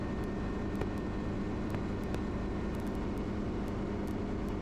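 Inside a helicopter cockpit in flight over Seattle, a steady engine and rotor drone holds constant and fairly quiet, with faint intermittent clicks on top.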